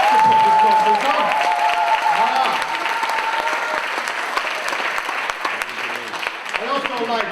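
Loud sustained applause from a conference audience at a Pan-African talk, steady clapping that gradually thins toward the end, with voices mixed into it.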